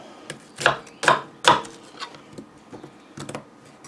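An onion chopped into small chunks on a board, three loud close knife strikes followed by quieter, quicker cuts and soft rubbing sounds.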